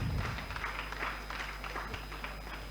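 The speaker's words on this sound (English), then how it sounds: "A round of applause." Audience applause at a community interactive session with the Ghana Police Service liaison office, a soft, distant patter of clapping from a gathered crowd under a steady hum, brief and even throughout.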